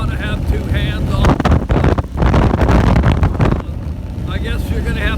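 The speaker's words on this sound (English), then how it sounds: "I guess you're going to have to deal with the wind." Heavy wind buffets the microphone while a bicycle rides along a gravel road, a loud continuous roar that swells and eases, with a voice speaking over it at the start and end.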